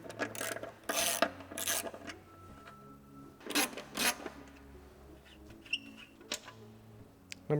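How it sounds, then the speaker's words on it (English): A ratchet with a 15mm socket loosening tight gray hex head screws on the skid plate of a Rivian R1T or R1S, heard as bursts of close mechanical clicking separated by pauses. "15mm socket. We're going to use that to remove these two outermost gray hex head screws at the back."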